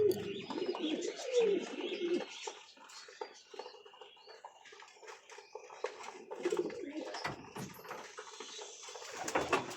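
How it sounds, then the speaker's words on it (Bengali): Domestic pigeons, a white one and a black one among them, coo in low repeated throaty bursts at close range, with soft wingbeats and light shuffling between calls. "ওই যে সাদাটা কালাটা বাড়ির কবুতর"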